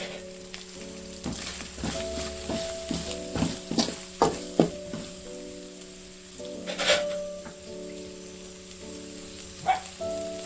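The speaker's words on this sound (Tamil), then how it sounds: "இப்போ இஞ்சி பூண்டு பேஸ்ட் எல்லாம் வதக்கிடலாங்க." Ginger-garlic paste sautéing in a pan with chilli powder, coriander powder and asafoetida, a steady sizzle broken by repeated spoon scrapes and stirring clinks, close and moderately loud with no voice.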